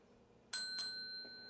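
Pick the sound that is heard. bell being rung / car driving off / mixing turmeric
bell being rung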